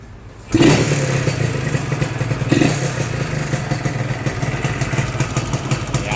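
A Yamaha TZR motorcycle engine starts abruptly and then runs on, a loud, steady two-stroke idle with a rattly, uneven putter and a brief blip of revs partway through.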